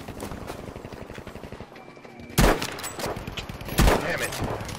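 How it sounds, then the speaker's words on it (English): Rifle shots in a shooter game, with two sharp loud cracks a little over a second apart standing out above a busy rattling background, while players talk. "I'm getting sniped at from the other side."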